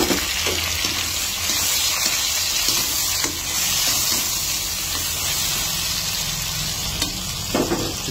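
Ripe red tomatoes cooking in a pan for a fried milkfish dish, a steady loud sizzle with faint stirring scrapes and occasional spatters, continuous throughout with no talk.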